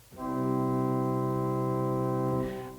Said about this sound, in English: And you have foundation stop sounds, which are kind of typical organ-sounding stops.